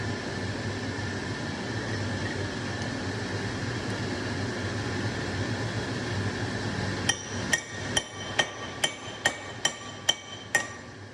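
After a steady rumbling background, a hammer taps metal about ten times at an even, brisk rhythm, each strike sharp and ringing.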